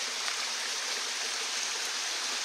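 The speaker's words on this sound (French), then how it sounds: "vu qu'il pleut quand même pas fort" Light rain falling outdoors at a bushcraft camp, a steady, even hiss of water with no distinct drops or other sounds, moderately loud and continuous throughout.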